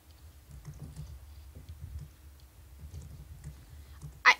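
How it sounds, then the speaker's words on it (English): Soft, irregular tapping on a computer keyboard runs steadily at low volume, ending with one sharper click. "What are you typing?"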